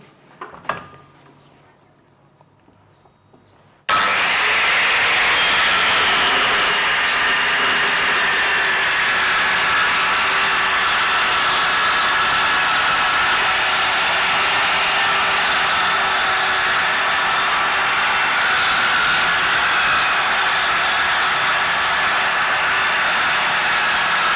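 A Bosch GKS circular saw starts up after a few quiet seconds and then runs loud and steady with a continuous high whine and roar for about twenty seconds, close by, with no talking.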